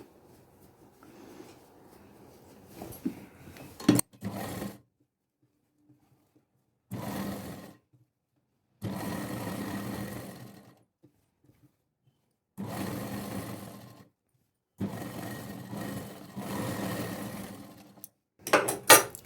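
Sewing machine attaching sleeves to a long frock with lining, running in several separate bursts of steady stitching with short pauses between them, close and moderately loud with no talking.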